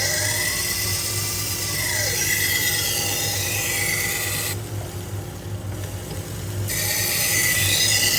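A Global kitchen knife drawn across the belt of an AMK-75 1x30 belt grinder, a continuous high abrasive whine and rasp with one brief softer dip midway.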